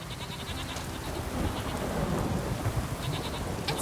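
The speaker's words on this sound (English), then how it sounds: "It's raining. Put on your gear." Steady rain in The Witcher 3: Wild Hunt hisses and patters throughout, with a low rumble of thunder swelling toward the middle. No voices are heard.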